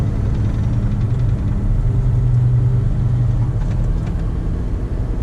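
A 2015 Scania G450 truck pulling a trailer drives along with a loud, steady low diesel engine rumble heard from inside the cab, unbroken and without talk.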